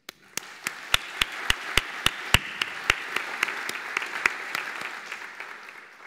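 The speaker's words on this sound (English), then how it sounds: "Please join me in applause to thank and recognize the sponsors of the coats." Sparse, close individual claps ring out over softer scattered clapping as an audience applauds the sponsors of white coats at a pharmacy school ceremony, the crisp hand claps irregularly spaced throughout.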